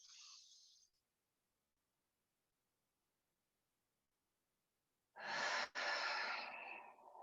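Deep breathing during a slow-moving energy balancing practice: a short airy exhale, a long silence, then a strong close inhalation that swells and holds loudly to the end.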